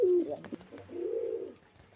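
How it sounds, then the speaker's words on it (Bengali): Pigeons at a home sale in Beldanga, a single low cooing call followed by a longer rolling coo, close and clear with no talking. "পায়রা অনেক পায়রা আছে"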